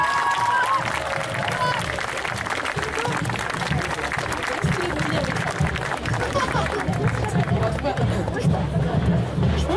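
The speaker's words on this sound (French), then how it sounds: "Applaudissez-le encore bien fort" Audience applause at a Saturday cosplay contest at the Yggdrasil festival, a steady wash of clapping and crowd cheering filling the hall from start to finish, with chatter and voices mixed through it.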